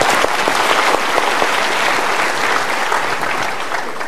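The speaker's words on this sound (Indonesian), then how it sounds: "Kita berikan tepuk tangan" Dense, steady applause from a large audience at a motivational talk, filling the whole stretch loud and unbroken with no voices standing out.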